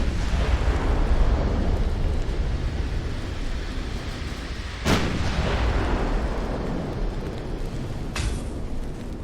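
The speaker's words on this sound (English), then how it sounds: "Oh boy, torpedo hit." A torpedo strikes a destroyer during a naval battle in Ultimate Admiral: Dreadnoughts, a deep rumbling explosion over continuous low battle noise, with a sharp crack midway and another burst near the end.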